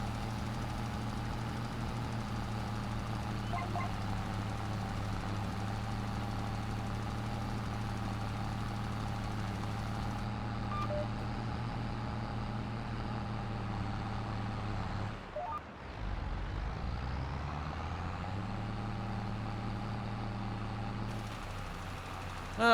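Steady tractor engine drone in Farming Simulator, hauling a lime spreader across a hilly field, holding a constant low rumble with a brief dip and recovery partway through; no talking.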